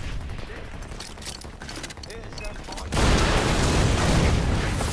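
Gunfire in Far Cry 4 starts as scattered shots and mechanical clatter, then turns into a loud, dense burst of continuous firing or explosions.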